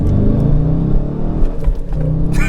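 A 2019 Dodge Challenger R/T with a six-speed manual roars loudly up close as it revs through first gear, its deep engine rumble dipping briefly at the shift into second before surging again.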